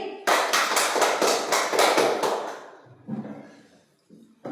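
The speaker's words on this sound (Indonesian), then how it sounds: "Tepuk tangan untuk Nario dan Feni" Short burst of classroom applause from pupils during a cooking lesson, about eight loud, fairly regular claps that quickly fade, followed by faint room noise and brief voices.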